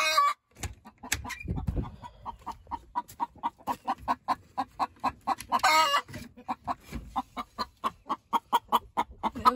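Silkie hen clucking inside a coop: a steady run of many short, rhythmic clucks repeating about three times per second, close and clear, with a brief louder squawking burst partway through.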